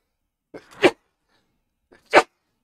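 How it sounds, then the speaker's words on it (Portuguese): Two sharp sneezes, the first with a short intake before it, the second about a second and a half later, close and loud with quiet between. "Eu acho que vou já espirrar aqui"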